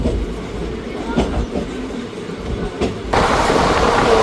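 Passenger train 54551 running from Ambala Cantt to Bathinda rumbles steadily with faint clickety-clack, and a louder rush of wheel noise swells near the end.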